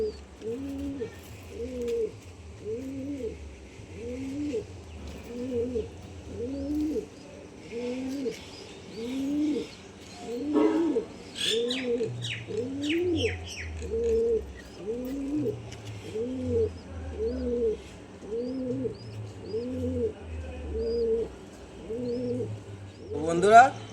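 Pigeons coo steadily in a loft, a pair of male and female birds giving repeated rhythmic coos close by, with a few brief chirps from other birds in the background.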